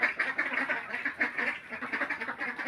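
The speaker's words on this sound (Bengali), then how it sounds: "এইদিকে দেখো হাঁসগুলো এই যে বাড়ি চলে আসলো" Ducks returning home at a rural homestead, with a steady run of close, overlapping quacks from several birds and no talk.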